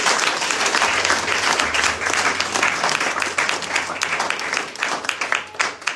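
A church congregation applauds and cheers together in worship, a dense, loud, steady wash of clapping with voices calling out underneath throughout.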